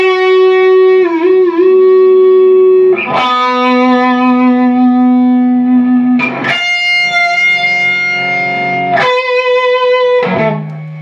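Distorted electric guitar lead playing long sustained notes with bends and vibrato, each note ringing out before sliding to the next.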